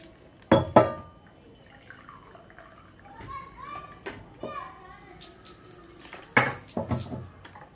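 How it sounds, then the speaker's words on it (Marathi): Raw mangoes being washed in water in a home kitchen, with sparse splashes and drips between two bursts of clattering dishes and utensils, while children talk and play in the background. "आपली एक एक एक कैरी स्वच्छ धुवून घेणार आहोत"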